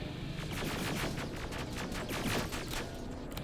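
Automated turrets firing in the video game Terminator: Resistance, a fast rattling burst of gunfire that goes on steadily through the whole stretch, dense and fairly loud, with no talking.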